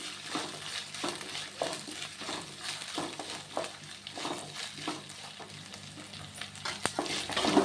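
Green chillies frying in a pan for semiya upma give a steady close sizzle, with stirring scrapes now and then and no talking.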